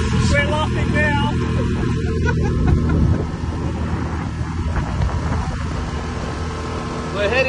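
A boat motor drones steadily through a fishing trip off Narooma, a low continuous engine hum running the whole time beneath people talking.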